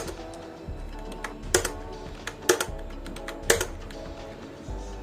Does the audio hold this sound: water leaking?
no